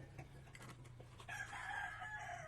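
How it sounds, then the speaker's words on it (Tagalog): Chickens cluck and crow faintly in the distance, a rooster-like call rising midway over a steady low background hum. "Excited na mga manok ko."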